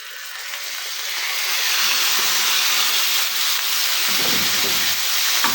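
Finely chopped beef pieces, half a kilo, sizzle in hot oil on a tawa with a steady, loud hiss that swells and then holds, close and continuous.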